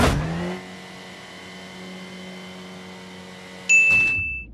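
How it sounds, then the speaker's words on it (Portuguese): An Audi Q5 engine holds a steady, tonal idle hum for several seconds, then surges in a sudden loud rev that fades off at the end; close and clear, with no talking. "Audi Q5"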